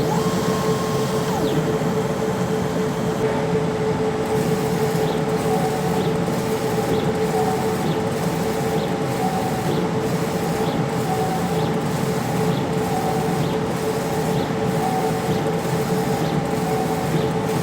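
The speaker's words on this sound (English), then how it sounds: "So the back head's printing the colors, and then as it comes forward, the white head is going to put white over the top." A direct-to-film (DTF) transfer printer runs its color and white print heads, a steady mechanical whir with regular carriage passes sweeping back and forth about once a second, continuous and fairly close.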